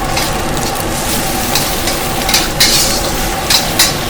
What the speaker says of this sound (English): you really want to stir fry this properly before the noodles go in